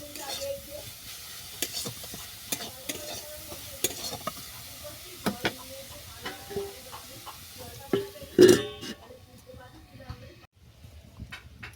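Broccoli and potato pieces cook in a pan with salt and turmeric, a low sizzle under repeated scraping stirs of a spatula and a louder clatter near the end, with someone talking throughout.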